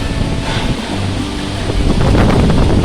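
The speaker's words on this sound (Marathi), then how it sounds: "खूप सुटलाय सोसाट्याचा वारा" Loud gusting stormy wind in a village rushes and buffets close by, swelling stronger toward the end as rain begins, with no voices.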